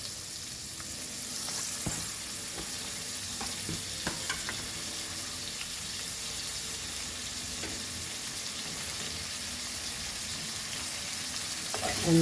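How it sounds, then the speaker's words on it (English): Onion, tomato and whole garlic sizzle steadily in a hot pan for a Goan sardine stew, a constant, fairly quiet frying hiss with occasional stirring clicks and no voices. "saute this, fry this for few seconds"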